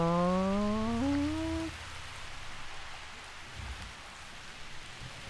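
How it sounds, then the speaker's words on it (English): Rain falls in the dinosaur park game Jurassic World Evolution, a steady hiss under a low creature-like call that rises and fades away early, with no talking. "I love how the rain just kind of just pours off of him like that."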